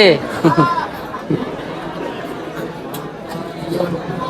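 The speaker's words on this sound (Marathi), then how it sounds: "गर्दी भयंकर गर्दी" Dense crowd of devotees at the Kanifnath temple, a steady babble of many voices with occasional laughter, and a nearby voice talking over the hubbub.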